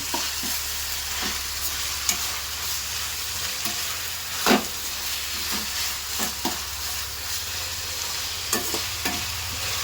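Lemon rice mixture with tomato is stirred in a pan, a steady sizzling frying hiss broken by repeated scraping knocks of the spoon against the pan, close and continuous with no talking.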